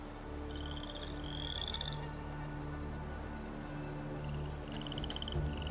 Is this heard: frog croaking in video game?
yes